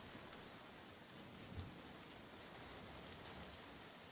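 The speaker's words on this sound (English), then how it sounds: "You heard raindrops and a reload." Rain falling in a Call of Duty match, a steady soft hiss of drops with a faint low rumble of wind, quiet and unbroken apart from one small thud.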